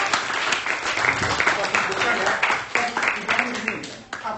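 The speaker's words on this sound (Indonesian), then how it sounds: "sekali lagi mari kita berikan aplaus." Applause at an Indonesian classroom lesson on the constitution, a burst of clapping from a group heard under and between a speaking voice, with rises and dips until it fades near the end.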